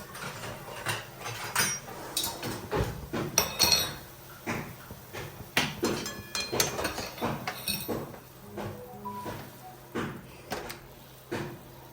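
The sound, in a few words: mashing cooked chickpeas in a pot for chana masala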